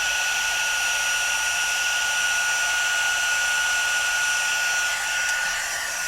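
Embossing heat tool blowing hot air at close range over a die-cut paper shape for card making, a steady loud whine and rush of air held throughout without break, no talking.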